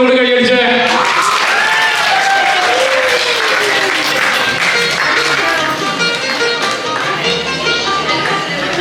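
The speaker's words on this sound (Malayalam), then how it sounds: "എല്ലാവരും ഒന്നുകൂടി കൈയടിച്ചേ" An audience claps loudly and continuously during a prize-giving for a girls' running race at a Kerala association's Onam celebration, with voices mingling over the sustained applause.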